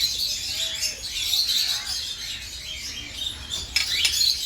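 Many birds chirp and tweet continuously in an aviary at Kankaria, Ahmedabad, housing green peafowl and parrots, their bright calls overlapping over soft background noise.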